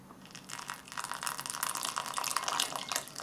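Water poured steadily into a fairly big glass to mix an Estonian military ration drink, a close, bright splashing trickle that builds over a few seconds with no talking.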